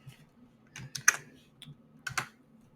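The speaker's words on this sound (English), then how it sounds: "just type yes and click on enter" Several quick keystrokes on a computer keyboard while entering a command in PowerShell, in small clustered bursts with short pauses between them, close and fairly quiet with no talking.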